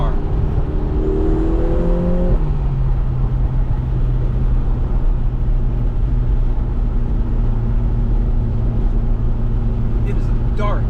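A Lotus Emira sports car engine runs loud and close, its pitch climbing and then settling into a sustained drone under an excited voice.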